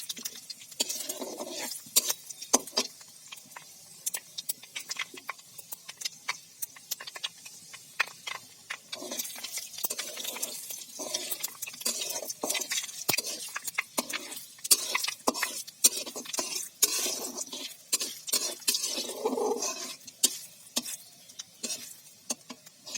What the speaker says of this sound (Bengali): দিয়ে দেওয়া হয়েছে তেল, দিয়ে দেবো পাঁচফোড়ন, পাঁচফোড়নটা ভালো মতো লাল করে নেব।